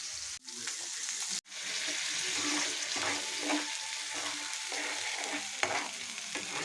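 Spices sauté in hot oil in a pan for mash chorchori, a close, continuous sizzle broken by scraping spoon strokes as they are stirred, with no voices.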